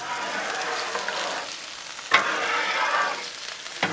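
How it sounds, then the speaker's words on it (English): Bread toasting in scraped-up bacon grease on a Blackstone griddle gives a steady, close sizzle and fry throughout, broken by a couple of sharp scrape or clatter accents. "I'm gonna start toasting that bread"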